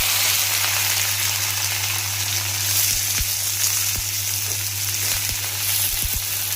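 Chopped onion sizzles steadily in a hot pan with ginger for a bhindi dish, a dense close frying hiss with a few soft pops and crackles and no voices.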